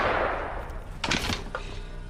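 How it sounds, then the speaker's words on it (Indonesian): Gunfire in a prison action film: a couple of sharp, fairly faint gunshot cracks heard over a murky, rumbling background with no talk. "Mendengar adanya suara tembakan"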